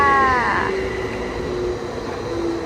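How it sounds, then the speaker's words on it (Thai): An electric train pulls into a station in Finland with a descending whine, then a low steady rumble and hum of rail noise fills the space. "รถไฟฟ้าเรามาแล้วค่ะ"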